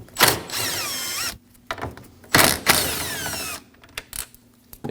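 Two 10mm bolts come out of the radiator fan of a 2016-2022 Honda Pilot with a power tool or ratchet. It plays as two long, loud bursts of mechanical whirring, each about a second, followed by short clicks and clunks.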